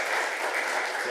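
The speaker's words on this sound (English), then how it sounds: "Please give everyone a round of applause for coming up." Brief burst of audience applause at a council meeting, a dense steady clatter of many hands clapping.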